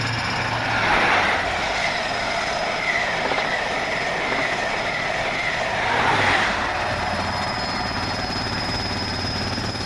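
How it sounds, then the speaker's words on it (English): A Virgin Trains East Coast train led by locomotive 91102 pulls away on the far side of Doncaster station, a steady loud rumble of wheels with faint squealing and no voices. "Over on the far side, 91102 will lead away the 1114 Virgin Train East"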